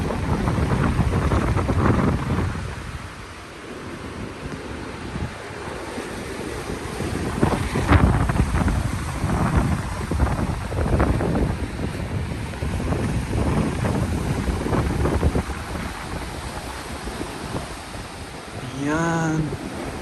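Strong sea wind buffets the microphone by rough waves on the Malta coast, a steady broadband roar with gusts swelling throughout and a brief tonal chirp near the end.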